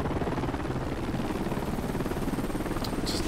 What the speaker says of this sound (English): Just helicopter noises all the time for the last forever.